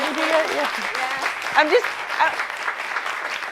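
Applause from an audience during a cinematography master class, a steady wash of clapping running the whole time with voices talking and reacting over it.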